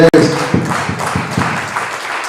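A church congregation claps at a bishop's ordination ceremony, heard as a short, loose run of hand claps at a moderate level with a muddy room echo.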